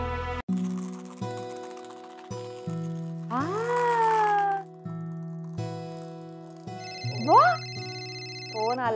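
A phone ringtone plays as a melodic series of sustained electronic tones and rising sweeps, fairly loud and continuous, with people talking at times.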